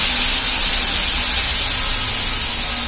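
Crushed garlic dropped into hot oil in a pan while cooking an avaram flower gravy, giving a loud, dense, steady sizzling hiss that fills the whole moment without pause.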